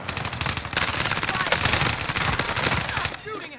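Rapid automatic gunfire from a video game rattles in dense bursts for a few seconds, loud and close, with players talking over it.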